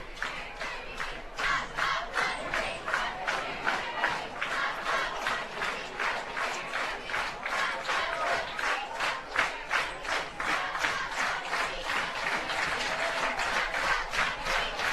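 A high school football crowd at a night game at Legion Field, with the Fort Morgan student section on its feet against Brush, roars and cheers in a steady rhythmic pulse of clapping and chanting that stays loud throughout.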